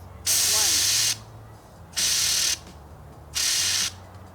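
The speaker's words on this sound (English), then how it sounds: "pull back, spray down in short 2-second bursts." Counter Assault bear spray fires in three short, loud hissing bursts of about a second each, separated by brief pauses, with a faint low hum underneath and no talking.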